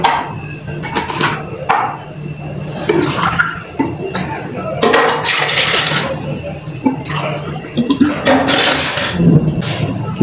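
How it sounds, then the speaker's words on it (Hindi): Water is poured into two glasses for a drink, with splashing bursts of pouring that rise and stop several times, loud and close, while someone talks throughout. "इसको बनाने के लिए हम 2 ग्लास पानी का लेंगे"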